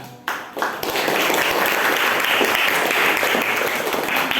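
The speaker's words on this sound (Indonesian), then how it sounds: "aplaus untuk kita semua ya" A classroom group of students bursts into applause after a teacher's call, dense clapping rising quickly and holding steady and loud throughout.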